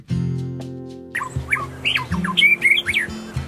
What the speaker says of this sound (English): I want to hear the bird talking to us.